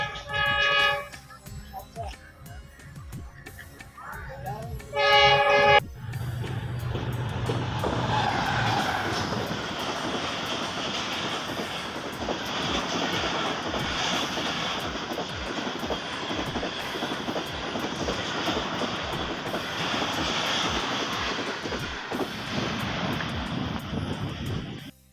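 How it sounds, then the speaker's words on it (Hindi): A train passes the closed level crossing at Harappa railway station: brief tonal sounds and a voice at first, then a loud, steady rumbling roar from about six seconds on that holds to the end. "गाड़ी आने वाली है।"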